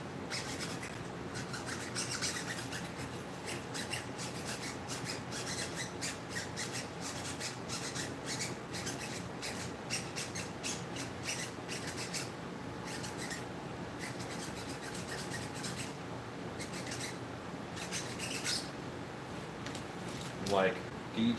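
A wire is pushed and poked through a sprayer nozzle in a workshop, making a continuous close, gritty rubbing and scraping with small irregular scratches throughout.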